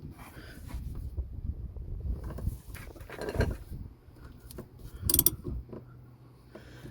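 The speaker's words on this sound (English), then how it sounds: "I'm just going to get my ratchet onto there. This is a 1/2 inch ratchet." A 1/2 inch ratchet loosening the diesel fuel filter on an Astra K, faint mechanical clicking and creaking turns with a few sharper clicks, close but quiet over light background noise, no voices.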